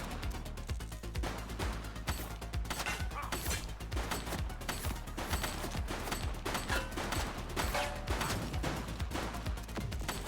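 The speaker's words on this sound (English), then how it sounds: "Shots fired!" Gunshots in The Precinct, a dense, continuous run of rapid shots and impacts with no pause, layered over a loud game soundscape.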